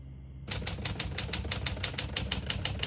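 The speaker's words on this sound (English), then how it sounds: "all the keys type nice and none of them skip or stick." A 1949 Smith-Corona Silent portable typewriter clacks out a brisk, even run of about fifteen sharp keystrokes after a short quiet start, close and distinct against a low background hum.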